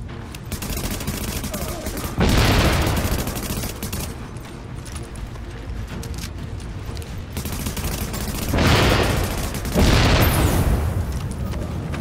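Assault rifle fire from The Division game, sustained bursts rolling on and off with heavier boom-like surges at about 2, 9 and 10 seconds, loud and dense throughout.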